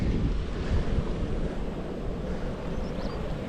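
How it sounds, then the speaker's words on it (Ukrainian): River water churns and roars below a dam, a dense, steady rushing wash that fills the scene without pause, with no voices present. "Вода тут бурлить, що страшне."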